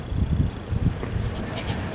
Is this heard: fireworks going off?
no